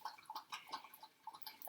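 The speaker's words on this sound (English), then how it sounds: "that's Stella drinking her water if you can hear it. She's quite noisy" A child drinking water noisily, with a quick series of faint wet slurping and lapping sips in an irregular rhythm, heard up close.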